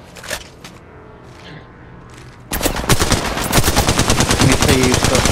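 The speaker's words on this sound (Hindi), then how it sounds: "फायरिंग" Rapid automatic gunfire in a ranked online shooter match, starting abruptly after a few seconds of quieter single shots and background noise, then sustained loud bursts of close-range fire to the end.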